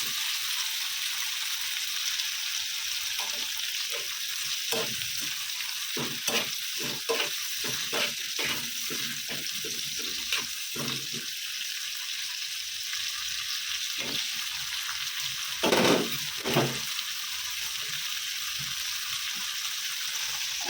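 Onions sizzle steadily in a pan, with a soft continuous hiss broken by repeated clicks and scrapes from a stirring spoon, close up and with no voices.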